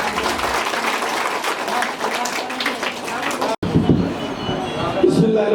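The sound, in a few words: audience applause at award ceremony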